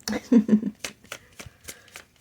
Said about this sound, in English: I had already shuffled everything, but maybe another shuffle wouldn't hurt.